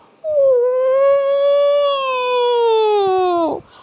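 A single dog howls in one long, steady, wavering note lasting several seconds, loud and close, ending with a short break in the voice.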